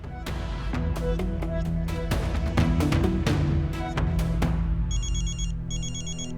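A mobile phone ringtone chirps in a repeating electronic pattern, two short bursts near the end, following loud dramatic music from a Hindi television serial.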